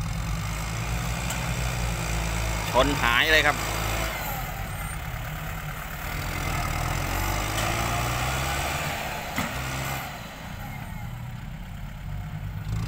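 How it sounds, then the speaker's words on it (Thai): A tractor engine runs on a sticky village track, holding a continuous low, heavy rumble with a brief spoken line over it partway through. "รถไถแรงมาก"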